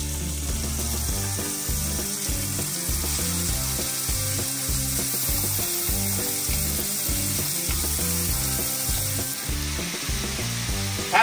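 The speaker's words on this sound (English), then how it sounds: "What you do is you start to brown them like this." Small meatballs for black bean chili browning in a hot pan, a steady loud sizzle with rhythmic scraping and stirring throughout, close up and without talk.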